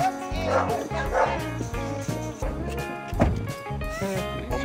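A rescue dog barks and whimpers in repeated short yips and whines, close and fairly loud, with a few sharper barks near the end.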